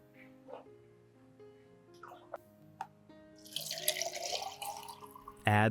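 Water pours into a blender jar in a brief, hissing splash over soft background music, and a louder burst of sound comes right at the end.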